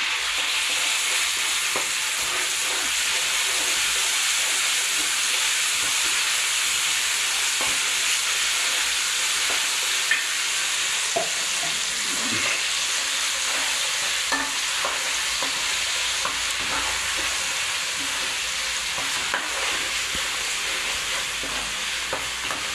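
Amla chutney with tamarind pulp fries in a pan with a constant loud sizzle and hiss, occasional soft spatula stirs and clicks over the steady noise, close by.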